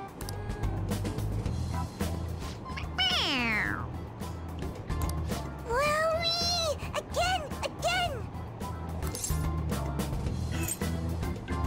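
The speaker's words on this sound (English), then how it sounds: "It meows when you press on its head" A toy cat in a video game gives two or three synthetic meows, each set off by a press on its head, clear and close over steady background game music.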